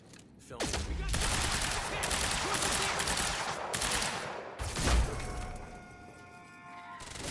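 Rapid automatic gunfire in Quantum Break fills the scene in a dense, loud barrage of continuous shots that fades after a final burst.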